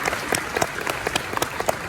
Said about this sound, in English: A round of applause for that one.